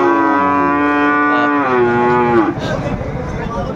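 A Sahiwal bull calf lets out a long, loud, close-up moo that falls in pitch, followed by a rougher grunting tail.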